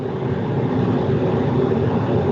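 Steady, even droning hum from an air conditioner, continuous and fairly loud throughout with no breaks and no voices over it.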